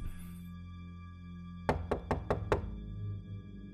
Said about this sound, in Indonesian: tiba-tiba pintu itu ada yang ngetok